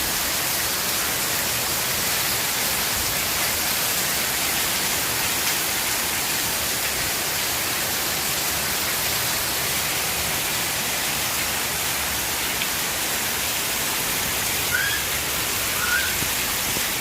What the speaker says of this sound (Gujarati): જો અહીંયા ધમધોકાર વરસાદ પડવાનું ચાલુ થઈ ગયું છે